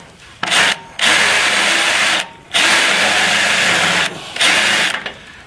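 A lubricated cutter drilling through a panel in a garage, heard as three long, loud grinding bursts with short pauses between them, close up and with no talk.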